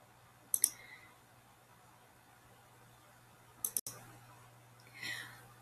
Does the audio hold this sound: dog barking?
no